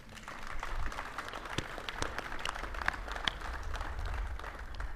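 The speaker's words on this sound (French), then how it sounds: "je voudrais qu'on t'applaudisse très fort" An audience at a flag-handing ceremony for the Senegalese Lions applauds coach Aliou, a sustained round of clapping from a crowd at moderate distance, steady for several seconds.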